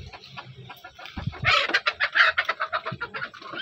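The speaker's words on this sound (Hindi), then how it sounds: "और ये मुर्गियों का लड़ाई कंटिन्यू है," Chickens squabbling and clucking close by, a rising burst of agitated, rapid squawks and cackles that keeps pulsing along, with no talk over it.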